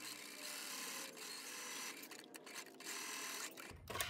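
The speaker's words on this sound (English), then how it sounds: "Next, I'm going to edge stitch the outer edge." A sewing machine edge stitches along the outer edge of a chambray blouse collar, a steady close motor whir running continuously for about four seconds before a brief pause and restart.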